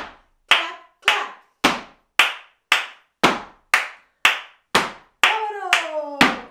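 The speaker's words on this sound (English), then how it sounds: "stomp, stomp, clap, clap, clap, clap, clap, clap" Flamenco rhythmic hand clapping at a dance workshop, a dozen crisp, loud claps spaced evenly and close up, each ringing briefly before the next, with the last few blurring together under a sung or called-out tone.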